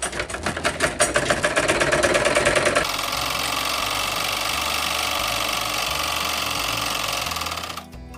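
A sewing machine runs close and steady while stitching a strip onto blouse fabric, with a rapid rhythmic clatter at first that gives way to a smoother continuous whir.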